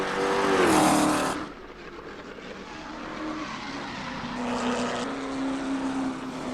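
A Ford GT40 race car in Assetto Corsa powers out of a corner, its engine rising in a loud, throaty climb with brief tire scrub. The note dips, then builds again steadily through the run, close and dominant.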